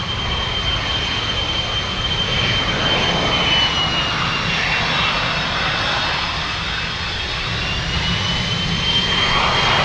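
A Boeing 747 Dreamlifter cargo jet at Anchorage airport produces a loud, sustained engine roar with a thin high whine running through it, steady and near for the whole stretch.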